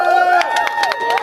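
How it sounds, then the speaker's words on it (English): Outdoor crowd at a Tallahassee Supreme Court protest clapping and cheering for Barbara Devane, scattered claps over a bright, tonal voice or chant that carries through. "So claps for Barbara Devane."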